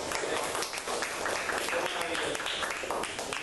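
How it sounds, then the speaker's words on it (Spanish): Dense applause from a Bible course congregation, steady clapping filling the room at close range for a few seconds, with a voice mixed in. "Y un aplauso para esa palabra."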